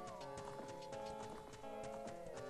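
Epona the horse from the video game Zelda Ocarina of Time clip-clops with rhythmic hoof sounds over tonal game music, faint and steady throughout.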